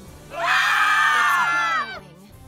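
A sustained high-pitched scream in the Ar Tonelico video game, loud and steady for about a second and a half before cutting off, then trailing into quieter background sound.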